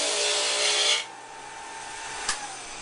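Dull sandpaper rubs against a laminated prosthetic socket, giving a close, steady rasping scrape for about a second, then a quiet pause and one brief faint scratch.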